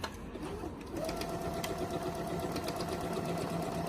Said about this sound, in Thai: ยกตีนทับผ้าลง ไฟเขียวเริ่มเย็บได้เลยนะคะ